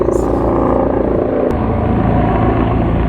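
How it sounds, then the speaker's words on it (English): A loud, steady helicopter drone with rhythmic rotor chop fills the whole clip, close and constant, with a brief sharp click partway through. "It's a helicopter."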